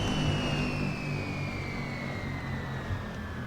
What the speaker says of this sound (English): shut down the engines for a second